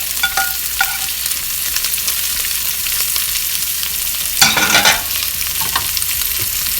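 Pork meatballs sizzle steadily in a hot pan as onions are added over the top, a loud continuous frying hiss broken by a brief burst of clatter and stirring near the middle, with no voices.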